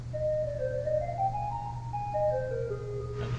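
A 4-foot stopped flute is added on the 1904 Kimball pipe organ at the Basilica of St. Josaphat in Milwaukee. A soft, bright melodic line wanders up and down over a steady low drone for a few seconds.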